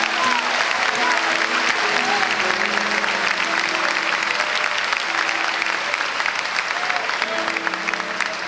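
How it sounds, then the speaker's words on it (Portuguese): A church congregation claps steadily and enthusiastically for several seconds, dense applause with a few voices calling out over it. "Vamos aplaudir a Deus pela vida dele."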